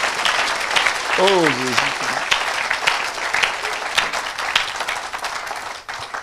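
A church congregation claps and cheers in a dense, sustained wave of applause that fills the whole moment, with a voice calling out briefly over the noise.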